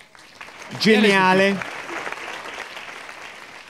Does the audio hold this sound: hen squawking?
no